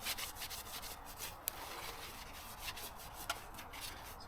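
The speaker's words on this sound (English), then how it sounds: "So get the rest of this nasty old glue off and any remaining surround membrane." Old glue being scraped off a car speaker's metal basket, heard as a close, soft, continuous rubbing and scratching with a couple of small knocks, with no talking.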